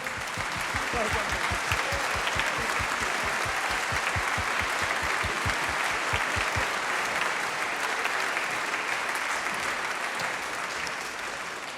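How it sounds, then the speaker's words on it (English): Concert audience applause at a school spring concert in De Montfort Hall, a large hall filled with steady sustained clapping, some rhythmic beats near the start, continuing evenly for the whole stretch. "let's give him a round of applause as he comes up"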